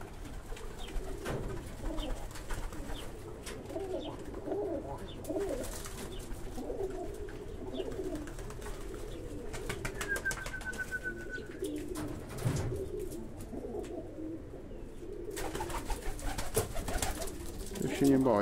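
Domestic pigeons of a pale-colored breed coo steadily in a loft, soft repeated low calls layered with occasional chirps and rustling, fairly close and continuous, with a voice speaking intermittently in the background.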